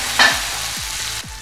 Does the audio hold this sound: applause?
no